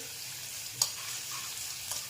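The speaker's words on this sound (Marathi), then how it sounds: "हे आपल्याला परतून घ्यायचं आहे एखाद्या मिनिट तेलामध्ये" A paste frying in oil gives a steady hiss, interrupted by a single sharp clink of a utensil.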